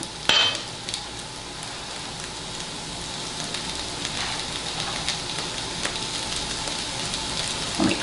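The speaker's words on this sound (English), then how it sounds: "We're going to continuously saute these vegetables just like we did with the chicken" Vegetables sautéing in a skillet for a chicken stir fry give a steady, close hiss of frying with faint scraping, continuous for the whole stretch and with no voices.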